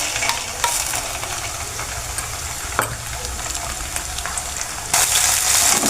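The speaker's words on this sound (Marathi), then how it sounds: "चांगलं तेल सुटेपर्यंत परतून घेऊ." Ground masala paste and onion sauté in oil with a steady close sizzle and spatula scraping, a few sharp knocks against the pan, and a louder burst of frying near the end; no voices.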